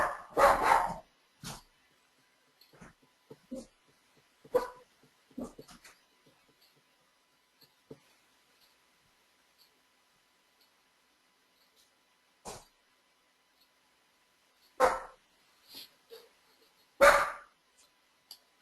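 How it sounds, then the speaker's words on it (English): A pet dog barks indoors in scattered bursts, a few sharp loud barks at the start and again near the end with fainter yips and thumps between, all at moderate distance against a quiet room. "He's barking a lot."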